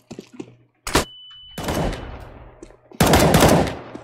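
Gunfire in a competitive Counter-Strike match plays as loud, close bursts: a short volley near one second, then a sustained stretch of shots, and a final heavy burst running to the end.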